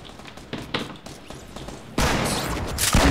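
Gunshots and thuds in the Fortnite Battle Royale video game, a few sharp separate cracks spread out, followed by a sudden loud burst of noise near the end; no one speaks.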